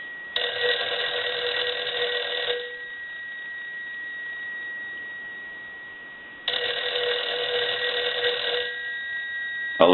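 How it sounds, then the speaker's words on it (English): A Western Electric 302 rotary desk telephone bell rings in two long, loud bursts separated by a few seconds of quiet, close and clear. "And we want to ring the telephone. We're going to let that go a few times."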